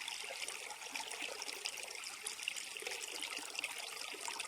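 A small creek trickles and splashes steadily along a dusty trail, a continuous, soft, close babble of shallow running water with no voices.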